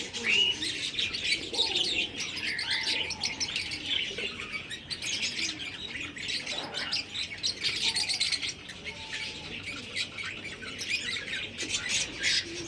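Many birds chirp and twitter busily in a rooftop pigeon loft, with pigeons fluttering and the occasional low coo, a continuous lively chorus without speech.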